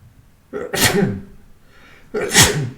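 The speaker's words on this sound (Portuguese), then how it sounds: "vou atrapalhar aqui com os espirros" Two loud, close sneezes from a teacher, each a sharp inhaled build-up followed by an explosive burst, about a second and a half apart with no talk between them.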